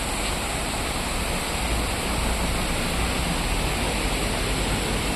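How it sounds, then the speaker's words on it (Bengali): Rohini Falls near Kurseong pours with a dense, unbroken roar of falling water, loud and close, steady throughout with no voices. "আমরা এখন এসেছি রোহিণী ফলসের সামনে। ভালো লাগছে অনেকক্ষণ পর গাড়ি থেকে নেমে, আর ঝর্ণাটা দেখে আরও সুন্দর লাগছে।"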